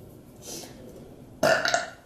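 A single loud burp from someone eating baby food, bursting out near the end after a quiet stretch, close and alone with no talk.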